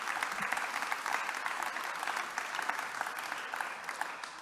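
Sustained audience applause fills a room at the Ville de Lyon's Lyon 2030 partners evening, a dense, steady patter of many hands at moderate loudness with no talk over it.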